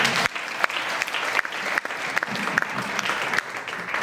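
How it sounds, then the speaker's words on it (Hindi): An audience at a business-plan meeting gives loud, energetic applause, a dense roar of many hands with a few sharp individual claps standing out, running steadily to the end. "एक बार जोरदार ताली हो जाए"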